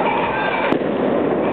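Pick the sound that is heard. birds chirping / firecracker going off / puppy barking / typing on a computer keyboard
firecracker going off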